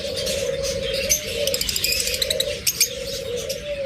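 Caged lovebirds and budgerigars chirp and tweet in quick, bright bursts over a steady low hum, the calls clustering in lively runs at moderate distance.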